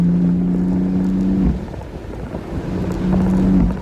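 A BMW M4 (F82) exhaust drones loudly on a canyon road, swelling and easing, with a steady low tone that drops away briefly before building again.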